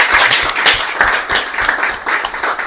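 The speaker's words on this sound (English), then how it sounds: "Everybody give him a round of applause." Audience applause at a talk on grief and healing: steady, dense clapping from a crowd, loud and close, continuous throughout with no speech over it.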